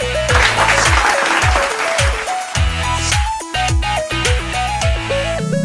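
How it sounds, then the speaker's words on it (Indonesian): Crowd applause at a boys' and girls' basketball league event at MTsN 1 Merangin school gym, steady dense clapping lasting throughout, overlaid by loud music with a thumping beat. "Semangat, tepuk tangan."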